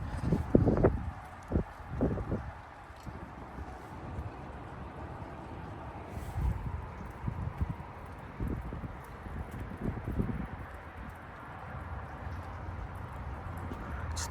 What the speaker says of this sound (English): it is so windy out right now